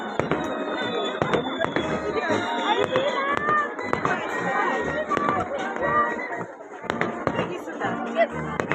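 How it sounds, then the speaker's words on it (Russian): Fireworks salute bursting over the harbor in Korsakov, Sakhalin, during a Pacific Fleet orchestra event in September, a steady run of sharp pops and bangs under a noisy crowd with people chatting nearby. "Салют."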